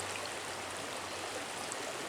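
A small creek flows toward a marshy bay, giving a steady, soft wash of running water that stays even throughout with no voices.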